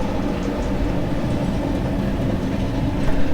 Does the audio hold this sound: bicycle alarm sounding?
no